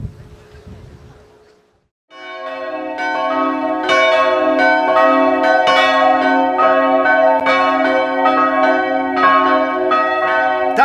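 After a short stretch of faint noise, the bells of Riga Cathedral's restored tower, a set of nine, burst into loud, sustained peals that layer and build into a dense, continuous ringing.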